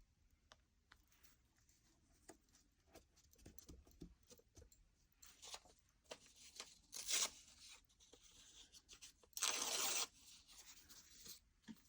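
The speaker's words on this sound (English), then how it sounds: "you can tear the pieces as big or as small as you want" Pieces of book page being torn by hand for junk journal strips: scattered soft rips and rustles, with two louder tearing bursts near the end, close and quiet, no voices.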